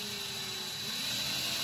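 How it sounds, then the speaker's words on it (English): A power drill bores through a gun stock to fit a Picatinny rail, producing a loud, steady, close grinding whine that runs for the whole short stretch. "And slowly drill through there."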